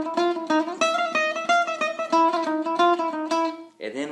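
An acoustic-style guitar picks an octave melody, a close, clear run of plucked doubled notes in a bouncy rhythm, ending on a short strummed chord.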